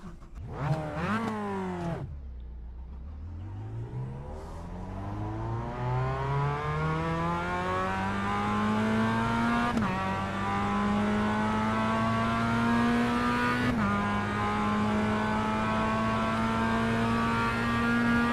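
A race car engine on an iRacing qualifying lap, loud and close, revving up through the gears with sharp rising pitch sweeps and brief drops at each shift, then holding a steady high whine.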